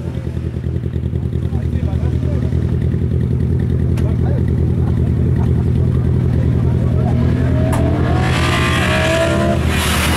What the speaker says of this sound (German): auf der Strecke haben wir jetzt die Startnummer 902, Meindl Michael auf BMW M3